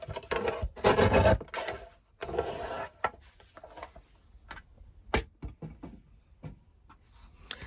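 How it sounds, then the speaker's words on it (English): Paper trimmer cutting excess cardstock off a Christmas card, a short scraping slide near the start followed by scattered light taps and handling noises, close and soft with no talk. "I'm just going to trim off the excess"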